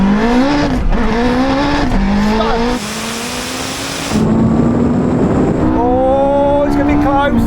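A Honda Integra Type R and a Porsche 918 Spyder drag race, with loud, close engines winding up through rising pitches, broken by clear gear-change drops, and a roaring burst midway.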